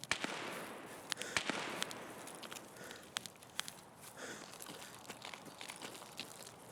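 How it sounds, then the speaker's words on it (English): Grenades go off around cottages in a first-person shooter game, heard as a scatter of sharp cracks and bursts of varying distance, with one dense cluster early on and sparser pops later amid shuffling movement. "There's some grenades going off at cottages."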